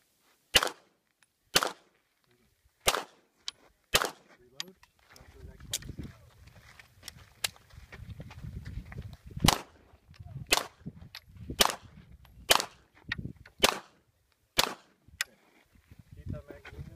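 Gunshots at a USPSA practical shooting stage, a series of sharp loud reports in uneven bursts, some spaced and some quick, with footsteps, shuffling and faint voices between them.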